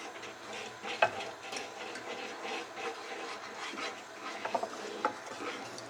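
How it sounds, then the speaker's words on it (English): A spoon stirs a vanilla ice cream base in a pot on the heat, giving a quiet, continuous scraping and rubbing with a few sharp taps against the pot and no speech. "And you want to stir this constantly."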